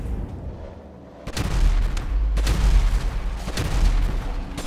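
Shotgun blasts in Grand Theft Auto V, several loud booming shots spaced irregularly over a rumbling background, near and heavy.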